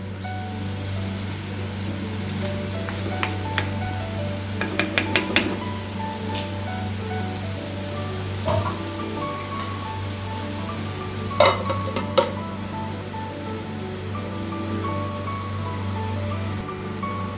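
Ivy gourd simmers under a lid in a pan, a steady low sizzling hum with occasional faint clicks and taps, alone without talk.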